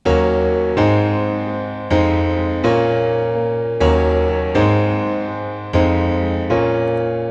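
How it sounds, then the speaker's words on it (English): Chords of a minor 2, 5, minor 3, 6 progression ring out on a sustained, piano-like instrument, about eight struck chords in a steady rhythm, each decaying before the next, played alone with no voice. "Now if I just play the chords, it sounds like this."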